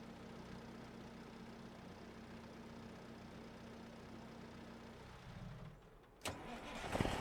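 A truck engine in Farming Simulator 25 cranks and catches near the end, a sharp burst followed by a rising rumble after several seconds of steady engine drone.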